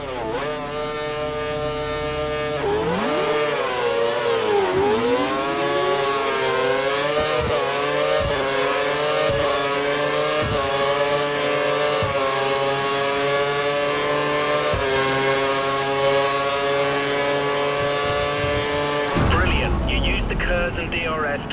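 F1 race car engines in the F1 2013 video game wail at high revs, with a sharp drop-and-climb in pitch, a steady string of upshifts and a sudden cut near the end, loud and continuous without speech.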